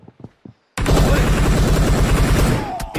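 Video game gunfire, a loud sustained burst of rapid shots after a few brief soft sounds, dense and close, tapering slightly at the end.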